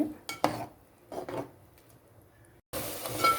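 Basmati rice poured into a boiling pot for ghee rice, then stirred with a metal spoon, giving several scraping, clattering bursts against the pot, followed by a louder continuous rush near the end.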